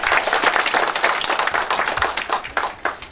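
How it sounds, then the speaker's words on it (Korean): An audience at a citizens' policy seminar gives a round of clapping for a presenter, brisk and fairly close, swelling and thinning in uneven bursts over a few seconds. "다시 한번 발제자께 박수 한번 부탁드리겠습니다"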